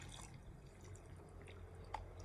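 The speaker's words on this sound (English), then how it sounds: "just water until it runs all the way through." Water drips and trickles through pebbles and compost in a pot of paperwhite narcissus bulbs after a thorough watering, a faint close-up patter with one brighter drip standing out near the end.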